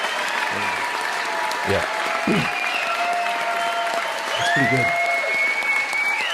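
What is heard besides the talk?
applause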